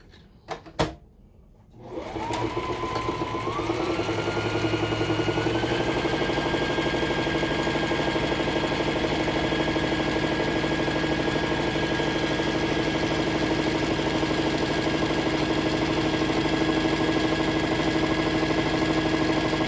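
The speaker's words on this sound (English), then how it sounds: "now we're going to sew along this bottom edge" A sewing machine stitching a pillowcase seam along its bottom edge, starting after a few clicks and quickly settling into a loud, steady mechanical whirr that runs continuously and close by.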